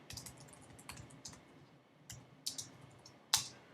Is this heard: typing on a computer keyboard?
yes